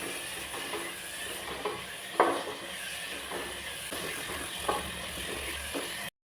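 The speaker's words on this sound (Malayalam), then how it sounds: "എല്ലാം കൂടെ നല്ലതുപോലെ മിക്സ് ചെയ്ത് കൊടുക്കാം" A spoon stirs pasta with chopped capsicum in a pan, making soft, irregular scrapes and taps over a faint, low sizzle.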